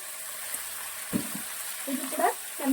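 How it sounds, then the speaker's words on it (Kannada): Two medium onions fry in a pan with a steady, soft sizzle throughout, punctuated by a few brief clinks and stirring sounds. "ಫ್ರೈ ಮಾಡ್ಕೊಳ್ಬೇಕು ಆಗಿ ಈರುಳ್ಳಿ ಫ್ರೈ ಆದ್ರೆ ಸಾಕು"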